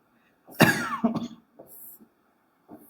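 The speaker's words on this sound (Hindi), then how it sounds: "सॉरी थोड़ी खांसी ज़्यादा हो गई है।" A single harsh cough up close, followed by a few smaller throat-clearing sounds and faint breaths.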